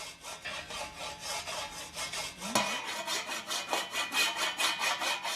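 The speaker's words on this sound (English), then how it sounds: "You can just scrape the wooden spoon or metal spoon or even your hand across the top of whatever you're using to make a sort of jaggy scraping sort of sound." A wooden or metal spoon scraped in steady repeated strokes across a surface, giving a rough, jaggy rasping rhythm that grows denser and louder partway through, close and alone.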